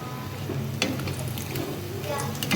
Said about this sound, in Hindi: डीप फ्राई किए हैं।